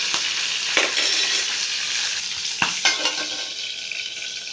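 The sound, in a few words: green chillies frying in oil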